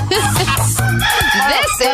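Rooster crowing chopped into a techno remix, with repeated loud crow phrases over a steady electronic beat and bass pulse throughout.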